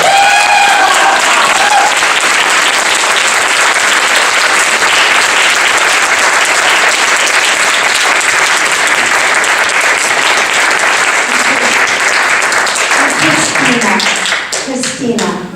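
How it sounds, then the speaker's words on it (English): A large conference audience applauds loudly and steadily for over ten seconds, the clapping thinning out near the end as a voice begins. "Please give them a round of applause."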